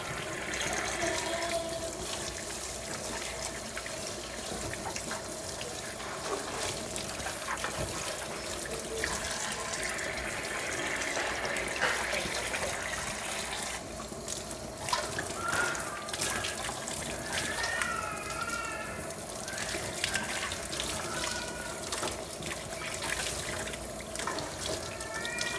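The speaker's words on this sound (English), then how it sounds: "I'm going to rinse with fresh water" Fresh tap water runs steadily from a faucet while milking equipment is rinsed in a sink, a continuous close splashing trickle with faint clinks and shifting flow throughout.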